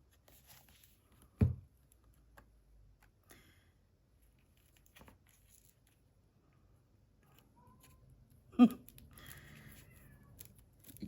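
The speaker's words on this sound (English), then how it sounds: "You hear the cat, she's going to go on for at least an hour." A cat meows twice in a quiet room during a paper crafting session, one short call early and another near the end, with faint rustling and small handling sounds between them.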